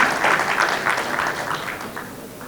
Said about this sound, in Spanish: fuerte el aplauso para la doctora Sonia Condoni Sáenz